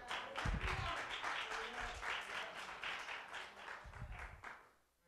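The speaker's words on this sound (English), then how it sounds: "Come on, clap your hands together." Church congregation clapping hands together during a sermon, a steady dense patter of applause filling the whole stretch, fading out at the end.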